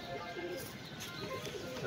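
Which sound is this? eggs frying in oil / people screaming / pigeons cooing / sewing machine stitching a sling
pigeons cooing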